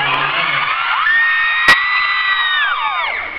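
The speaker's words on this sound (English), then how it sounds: "You scream louder than any group of people I've ever met in the world." Brazilian fans at a convention panel scream and cheer loudly as one big crowd, a sustained high-pitched roar of shrieks and whoops, with one sharp bang partway through.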